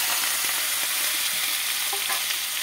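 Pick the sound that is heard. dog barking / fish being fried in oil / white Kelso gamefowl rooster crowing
fish being fried in oil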